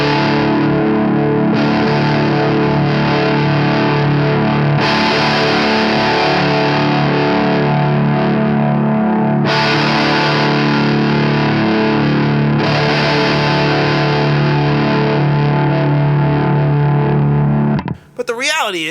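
Distorted electric guitar through an amp holds long, loud sustained chords, changed every few seconds, with a gritty, biting midrange. A brief scrape ends it.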